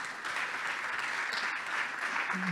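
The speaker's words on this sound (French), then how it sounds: "Donc, sous vos applaudissements évidemment, Mathieu." Audience applause welcoming a speaker on stage at a business startup day event, a steady, even wash of clapping from a crowd throughout.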